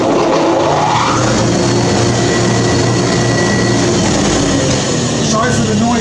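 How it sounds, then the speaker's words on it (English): An industrial dust collector hooked to a planer in a timber-framing shop runs loud and steady for the whole stretch, a dense broadband roar with a constant low hum and no pauses. "which I'll turn the dust collector on now"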